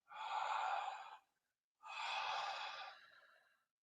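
Two deep, drawn-out breaths taken slowly during a guided breathwork exercise, each a long airy rush lasting about a second, separated by a short pause, close and alone.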